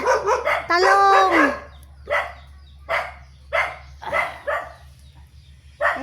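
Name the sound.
dogs barking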